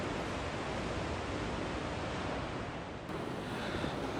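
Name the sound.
ocean waves at the coast in Choshi, Chiba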